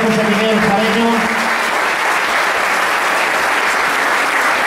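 Audience applause at the coronation of the festival queen and her court during the 2011 fiestas in El Picazo, a strong continuous wash of clapping from a large crowd, with a speaker's voice fading out at the start.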